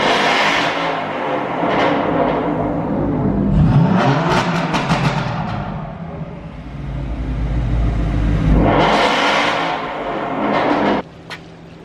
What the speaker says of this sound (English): Okay, start it up. I want to hear it. Hey, rev back.